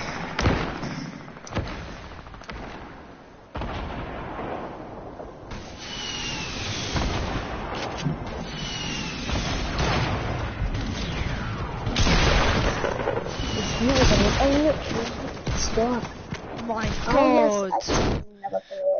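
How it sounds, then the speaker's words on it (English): Quad launcher explosions in a shooter video game: a series of heavy booming blasts and thuds arriving in uneven succession, loud and close, over busy game noise with someone talking throughout. "Remember, I got the quad launcher."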